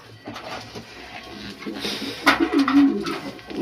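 Pigeons coo softly around a cage, low burbling calls rising near the end, with faint rustling and a hint of background voice.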